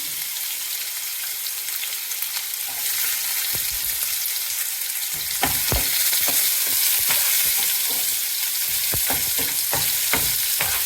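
Hot oil sizzles steadily while spices and dried red chillies crackle and pop in sharp bursts during tempering, close by, growing busier partway through.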